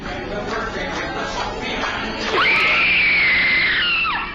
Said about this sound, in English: What you just heard was supposedly the final screams of a Disneyland employee